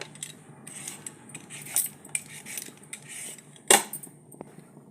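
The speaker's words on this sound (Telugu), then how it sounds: "క్యారెట్ బాగా శుభ్రంగా వాష్ చేసుకొని సన్న సన్న ముక్కలు కోసుకోవాలి" Carrots being sliced thin with a knife, heard as a run of short, irregular taps and scrapes against a board, with one sharp, louder clack near the end and no voices.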